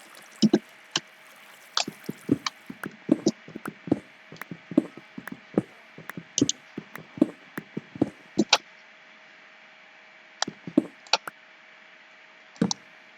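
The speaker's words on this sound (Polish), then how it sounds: "Ja potrzebuję teraz wylać wodę." Water is emptied from a bucket in the Minecraft video game, producing a series of short, crisp splashing and clicking blips in irregular bursts with brief pauses, heard alone.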